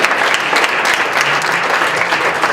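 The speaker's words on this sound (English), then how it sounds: "Let's one more round of applause for everyone." Audience applause fills an awards event, a dense, loud burst of clapping from a crowd, continuous throughout with no speech over it.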